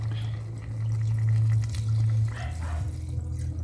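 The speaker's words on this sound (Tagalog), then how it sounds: "Ilagay na natin yung gata." Coconut milk, three cups, poured into a pot for yellowfin tuna in coconut sauce, giving a steady liquid pour over a low kitchen hum.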